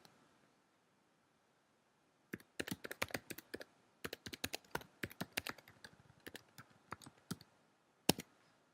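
Someone typing an email address on a computer keyboard, quiet close key clicks in quick irregular bursts with short gaps, ending with a single firmer keystroke in an otherwise silent room.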